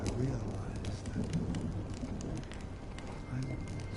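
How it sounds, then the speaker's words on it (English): Steady rain patters over the surfaces of a scene in the video game Honkai Star Rail, a continuous soft hiss and drip at moderate volume. "When will this rain ever stop?"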